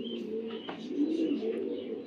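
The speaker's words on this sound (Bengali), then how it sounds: "দেখেন কী ছটফট করতেছে উড়ার জন্য" A young club racing pigeon coos steadily at close range with soft rustling, a low continuous murmur with no talk over it.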